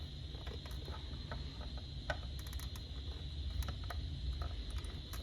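A plastic cover on an EST Genesis ceiling-mount horn strobe is pried and twisted open with a screwdriver, giving faint scattered clicks, scrapes and ratcheting snaps close by over a quiet room hum.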